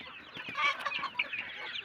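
Several domestic chickens clucking close by, a busy overlapping chatter of short clucks and squawks.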